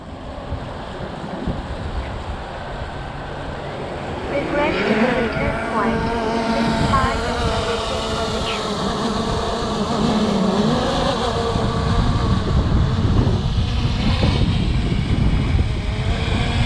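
Zino 2 drone motors spinning up on a manual start in strong wind, a rising harmonic whine that climbs in pitch and steadies near the microphone, over constant wind rumble, with a voice speaking in the background.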